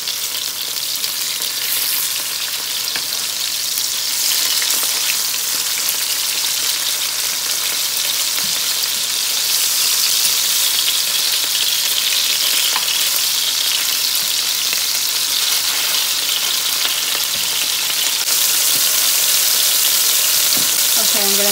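Cajun chicken frying in a pan after being flipped, a loud, continuous, close-up hiss and crackle of hot oil that holds steady throughout with faint stirring underneath.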